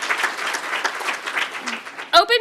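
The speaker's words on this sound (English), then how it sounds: "Everybody give these people a big round of" Applause from a keynote audience at an open-data opening session, a steady spread of clapping that carries on for a couple of seconds before a voice briefly cuts in at the end.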